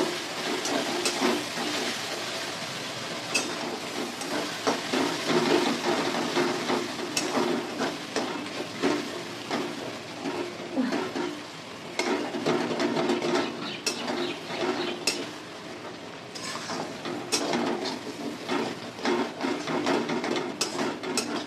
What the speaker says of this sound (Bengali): এবার মশলার সাথে আমি কষিয়ে নেব।